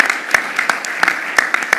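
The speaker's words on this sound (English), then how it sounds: "Could you give all of our BSU campus community a round of applause?" Applause for a university campus community at a board of regents meeting, loud close claps from a small group, distinct individual hand strikes in a quick uneven rhythm.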